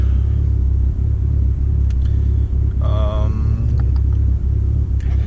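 A Dodge Neon SRT-4 engine idles with a low, steady rumble that dominates throughout, loud and close, with faint higher sounds briefly appearing over it.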